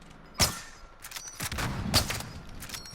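Gunfire in Call of Duty Warzone on Rebirth Island: a few sharp reports and thumps spread over a few seconds, moderately loud against game ambience.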